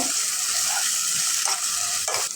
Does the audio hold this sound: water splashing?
no